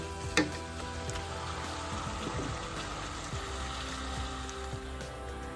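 Chicken pieces with spices for chicken curry frying in a pan, a continuous moderate sizzle and crackle with a single sharp clink near the start and no talk.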